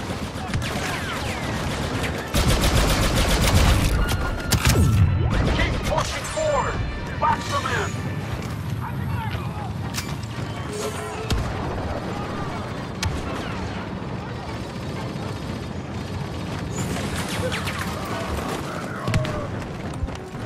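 Game grenade blast and rapid gunfire in Star Wars Battlefront 2 multiplayer on Endor, Xbox One: a loud, dense barrage of shots and booms, with a heavy burst early on, then steady crackling fire continuing under faint voices.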